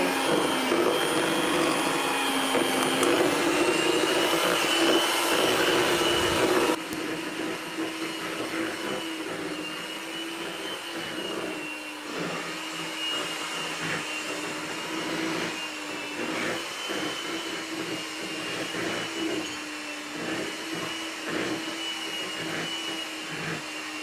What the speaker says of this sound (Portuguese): agora que a Geritza está batendo